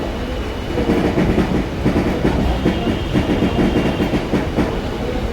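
A train rumbles steadily along the tracks on the approach into Howrah, a continuous loud clatter of wheels and carriages with rhythmic clickety-clack, heard close from inside or beside the moving train with no talking.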